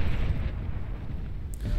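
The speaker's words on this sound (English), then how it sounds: "Massive explosion there." Massive explosion as a forward facility is destroyed in the strategy game Beyond All Reason, a dense, sustained low rumble that fills the whole moment, loud and continuous with no clear single onset.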